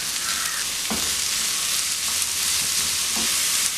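Chopped onion sautés in a hot pan for kappa chicken, giving a steady close sizzle broken by a few soft scrapes of stirring.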